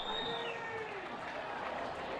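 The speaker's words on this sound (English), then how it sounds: "Whoa, that is a loud crowd there" Crowd outside Truist Park, the Atlanta ballpark, roars in a broad, continuous wash of cheering and clapping at moderate distance, with a whistle-like tone gliding down early on.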